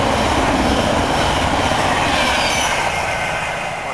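A southbound Turbostar diesel train passes Needham Lake on its way to Peterborough, a loud, close, continuous roar and rumble of engine and wheels that fades slightly at the end.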